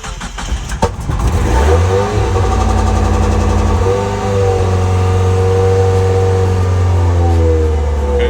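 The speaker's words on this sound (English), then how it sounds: "But engine sounds good so far." A manual-transmission car engine cranks with a few sharp clicks, catches, and settles into a steady, loud idle with slight rev changes, close up.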